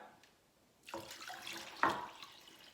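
About two glasses of lukewarm water, roughly half a litre, are poured into a pot of dates, a splashing rush starting after a quiet moment and running steadily to the end with a sharper splash midway.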